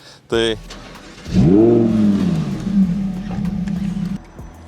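A Lamborghini Huracán's 5.2-litre V10 cranks and fires loudly close by, surging into a rising revving roar that settles into a deep, steady idle, with a brief sharp sound just before the start.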